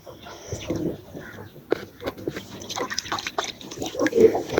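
Water splashing and dripping while a pigeon is bathed and its feet are wetted, with irregular close trickles and small splashes alongside a person talking.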